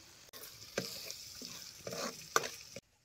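A spice mix crackles and sizzles steadily in oil in a pan on a wood-fired village stove, with a few sharper spatters and stirring scrapes over the hiss.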